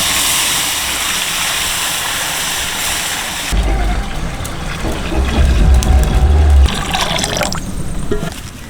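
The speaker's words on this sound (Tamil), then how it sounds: "கூட்டி வச்ச மீன் குழம்புக்கு புளியை கரைச்சி வச்சுருக்கோம், ஊற்றிக்கலாம்." Tamarind water mixed with ground chili and coriander is poured into a pot of village-style fish curry, giving a steady liquid pour that turns into louder bubbling and sizzling partway through.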